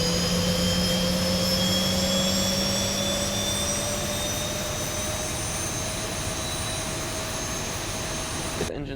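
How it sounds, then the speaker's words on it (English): A Boeing 737 jet engine winds up during start in the flight simulator X-Plane 11, a loud, steady roar with rising whining tones that hold for several seconds and no voices. "Get engine started."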